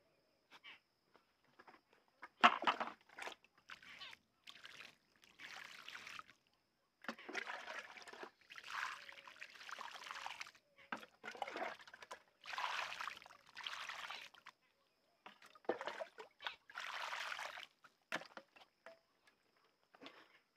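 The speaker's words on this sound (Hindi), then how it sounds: "अब हम इसमें पानी का छिड़काव करेंगे" Water is sprinkled by hand onto homemade compost, landing in repeated short splashing bursts separated by brief pauses. The patters and trickles are close and fairly quiet, with no voices.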